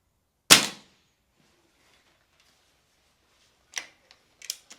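A BSA Lightning CLX springer air rifle fires a single sharp, loud crack, then after a few seconds of quiet comes a cluster of fainter clicks and taps as the pellet strikes or the rifle is handled.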